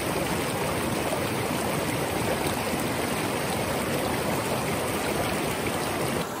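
Cold mountain creek water near Tenquille Lake, a dense, continuous rushing and gurgling flow heard close up and fairly loud, with no voices.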